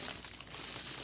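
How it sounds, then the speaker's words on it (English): Wax paper crinkles and rustles softly in a home kitchen as ginger shortbread cookie dough is shaped into a log, a faint continuous crackle with no speech. "I'm going to use the wax paper"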